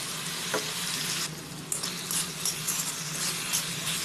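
A paste of ground coriander and cumin seeds fries in oil, giving a dense, close crackling sizzle with scattered spatters and pops and light stirring noises throughout.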